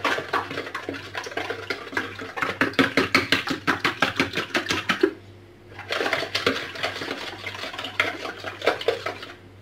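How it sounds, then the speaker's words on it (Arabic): Eggs, vanilla sugar and oil being whisked together in a bowl: a fast, steady run of rhythmic clinks and taps, close and fairly loud, breaking off for a moment around the middle before resuming. "فكنوضع هنايا البيض والسكر الفاني، غادي نوضع كذلك الزيت، نخلطهم واحد شويه مع بعضهم"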